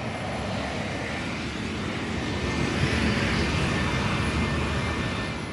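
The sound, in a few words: private jet flying over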